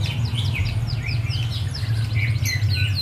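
A green leafbird sings at a bird contest in a village, a rapid string of clear, sweeping whistles and chirps close by over a low steady hum of the crowded surroundings.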